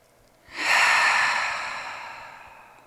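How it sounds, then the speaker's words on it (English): One long, audible exhale during a trauma-informed yoga class swells quickly and then fades slowly, close and alone with no talking. "you might start by exhaling the air out of your lungs, and we'll breathe in together"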